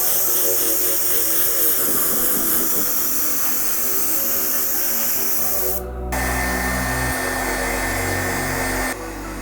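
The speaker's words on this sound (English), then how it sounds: "What we're gonna be using is Jacquard's Opaque White and our airbrush." An airbrush sprays Jacquard Opaque White paint onto Air Jordan 13 sneakers, a loud, close, continuous hiss of air that carries on with a compressor drone rising beneath it partway through.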